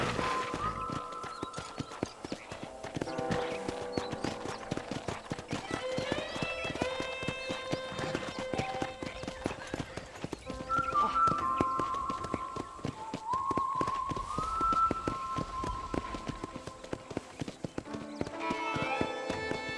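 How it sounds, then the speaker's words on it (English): Horse hooves clip-clop in steady rhythm during a ranch ride in the video game Red Dead Redemption, crisp repeated taps running throughout under melodic background music, with a brief whinny-like tone. "I picked out a fine horse for you."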